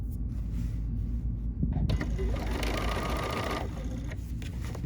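A sewing machine stitches along a crease on a quilt binding, a steady close whir over a constant low hum that continues alone, without speech, for several seconds.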